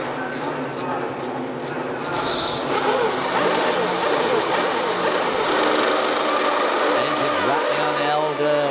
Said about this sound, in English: Rev limiters there, laying down a bit of rubber to give themselves some grip